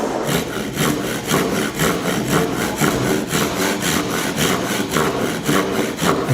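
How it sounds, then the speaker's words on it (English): A Japanese pull saw rasps steadily through wood in quick, even strokes, close and continuous, with no voices over the rhythmic scraping. "So you start to cut. Again, it's a pole saw. It's a Japanese pole saw."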